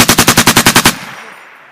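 An M240 or M249 machine gun fires a sustained burst of about nine rapid, evenly spaced, very loud shots. The reverberation then decays in the open air.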